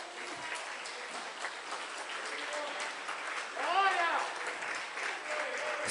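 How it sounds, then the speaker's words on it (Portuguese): Church congregation applauding during a Portuguese-language sermon, a steady wash of clapping with a preacher's voice speaking over it. "Fiquemos em pé, aplauda Jesus."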